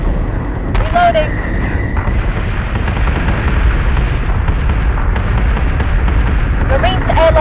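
Starship guns pounding in a Battlestar Galactica Deadlock space battle, a loud constant barrage of booming cannon fire and explosions with radio-style voices speaking over it.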